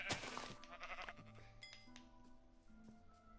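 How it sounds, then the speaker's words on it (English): Sheep bleat in the Minecraft video game, a short nasal call near the start followed by faint clinks and soft game sounds, quiet and with no talk. "And there's another sheep over here,"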